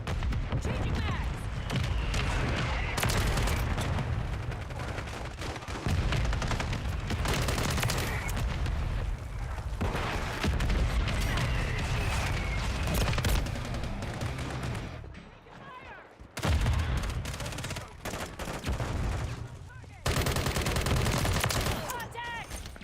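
Heavy gunfire and explosive blasts from a mortar strike in Call of Duty Warzone on Rebirth Island erupt in loud, dense bursts, with brief lulls and a voice talking over the combat.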